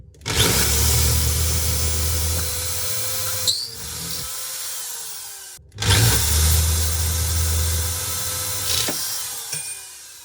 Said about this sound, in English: So what's left is to drill out this one